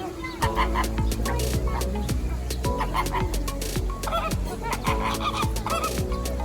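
A large flock of flamingos at a zoo calls constantly, with overlapping nasal honks and goose-like gabbling, some close and loud, others further back.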